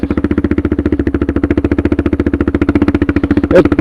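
A Suzuki DR650 motorcycle engine fitted with a Procycle jet kit thumps steadily at low revs, pulling gently under light throttle with an even, rapid pulse, close and loud.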